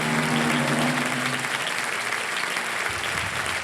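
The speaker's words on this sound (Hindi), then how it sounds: "ताली बज रही है पहले से ही।" A studio audience on the quiz show Kaun Banega Crorepati claps steadily in a dense wash of applause that holds, then thins toward the end.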